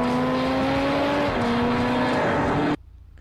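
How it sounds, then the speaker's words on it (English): BMW M4 with its sports exhaust engaged in GTA V revs loudly and steadily, its engine tone rising and shifting for nearly three seconds before cutting off abruptly into near silence. "if you push this little button here, you engage the sports exhaust system, which makes it even louder"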